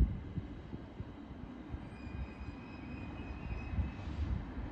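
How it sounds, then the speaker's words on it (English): Distant rumble of two trains rolling into Clacton-on-Sea railway station, a low continuous mechanical drone with faint squealing tones drifting above it. "Two trains arriving at Clacton train station depot."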